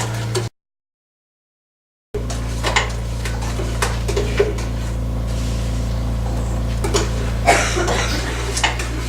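Fudge mixture is stirred in a pot on the heat, with repeated spoon scrapes and light metallic clinks against the pot over a constant low kitchen hum, after a brief gap of silence.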